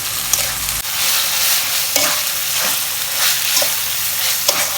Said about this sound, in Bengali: আদা বাটা রসুন বাটা একটু ভেজে নিচ্ছি